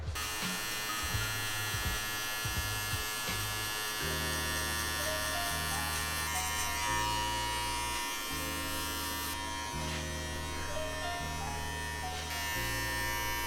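Electric hair clipper with the blade fully open buzzing steadily while cutting hair during a mid skin fade at a barbershop, a continuous close motor hum with shifting pitch as it runs over the head.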